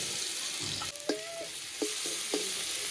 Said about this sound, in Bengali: এবার ওই বাদ বাকি তেলে কিছুটা পরিমাণ রসুনটা ফোড়নে দিয়ে দেবো